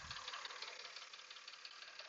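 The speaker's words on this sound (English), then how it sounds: "I have a very noticeable knocking, which can be injectors," A 2011 Mercedes-Benz R350 Bluetec diesel engine, running rough with a noticeable knock, gives a steady, faint, fast rattling clatter that continues evenly throughout.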